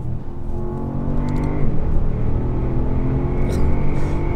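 A Brabus S800 car accelerates hard, its engine note climbing in pitch, dropping briefly at a gear change, then rising again. Heard from inside the cabin at moderate level, with faint voices.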